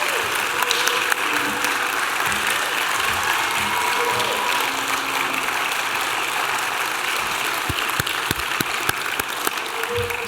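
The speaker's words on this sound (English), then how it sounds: "Let's give them a big round of applause for their accomplishments." Loud, sustained applause from an audience at a hall of fame induction ceremony honoring inductees, a dense wash of clapping with occasional sharper claps, steady for the full stretch and no talking over it.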